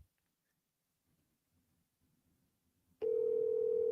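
A phone ringing tone comes in suddenly partway through a call after faint quiet shuffling, then holds loud and steady until the end.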